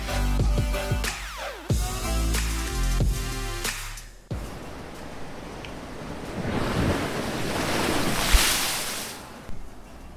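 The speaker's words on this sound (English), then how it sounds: "let's see how close I can get to this blowhole" Ocean waves surge through a coastal blowhole with a loud, roaring rush and heavy spray noise, along with strong wind buffeting the microphone and some clattering handling sounds at the start.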